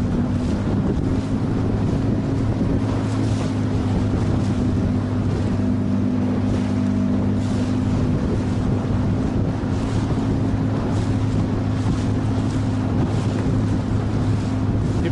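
Strong, gusting wind roars steadily across a boat on a river, a constant loud rush with a low hum underneath, the hull rocking in choppy water and no speech.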